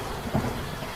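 Heavy rain pours steadily and a brief low rumble of thunder rolls through, a dense wash of noise without voices.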